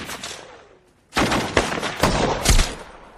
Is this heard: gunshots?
yes